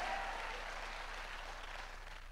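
A church congregation claps loudly and steadily during a bishop's sermon, a dense, sustained burst of applause with no voices over it.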